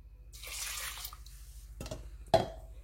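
Cooking water poured into a pot for spelt in a home kitchen, a steady close splashing stream lasting over a second, followed by a couple of sharper knocks and a clink of the pot or measuring cup.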